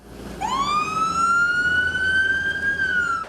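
A fire truck siren sounds during a memorial procession of patrol cars, ambulances and fire trucks for fallen first responders in Burnsville. A single loud, close wail rises sharply, then holds a long sustained tone before cutting off.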